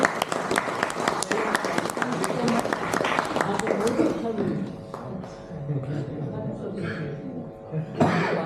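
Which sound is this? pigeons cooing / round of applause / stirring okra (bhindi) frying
round of applause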